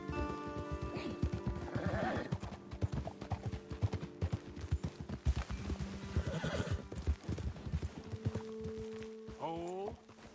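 Horses in Red Dead Redemption 2 clip-clop along at a trot with several clear whinnies and neighs, hoofbeats steady and close throughout, while a voice talks over them.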